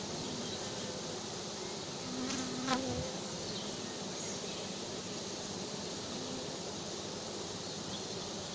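Honey bee swarm being hived, a soft, steady buzzing drone of many bees outdoors, faint and continuous, with a single insect flying close past midway.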